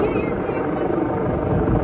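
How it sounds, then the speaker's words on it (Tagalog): A helicopter flying overhead gives a steady, loud rotor drone that fills the whole moment, with people talking over it. "Helicopter, oh, helicopter."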